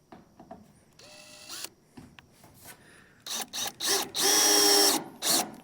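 A power drill drives screws into a metal roofing panel on a backyard gas station addition, heard as several short whirring bursts of rising loudness separated by brief pauses, the last ones longest and loudest.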